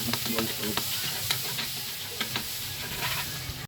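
Garlic fries in a pan for a lunch dish, giving a close, loud crackling sizzle with repeated scrapes and clicks of a utensil stirring.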